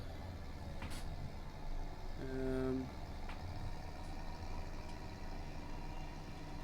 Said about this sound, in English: Sorry if this tractor is very loud.